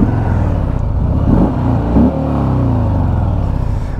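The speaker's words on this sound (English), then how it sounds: "This is the stock exhaust, I do believe, and stock engine." Harley-Davidson Sport Glide with the stock 107 engine and stock exhaust, idling and revving in a steady low rumble with a couple of throttle blips, close and loud with no talking.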